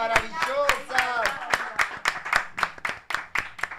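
A small group claps steadily during a live stream, a run of sharp, fairly even claps with a voice talking over the first part.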